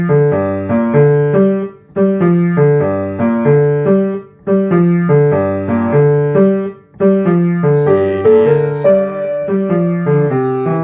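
Solo piano plays a song from La La Land, with steady repeated chord patterns and a melody on top, loud and close, broken by short pauses between phrases.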